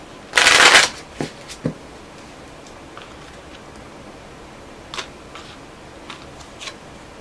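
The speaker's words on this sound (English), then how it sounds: "One more shuffle." A quick riffle of tarot cards being shuffled, followed by a few soft taps and light handling sounds in a quiet room.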